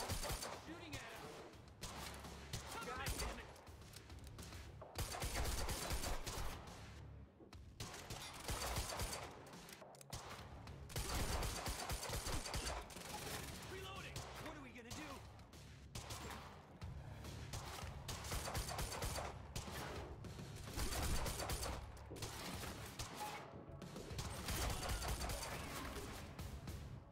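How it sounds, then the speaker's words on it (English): Gunfire in the video game Quantum Break comes as repeated bursts and volleys amid a dense, continuous mix of game noise, with shouting voices in between. "Stop shooting at him!"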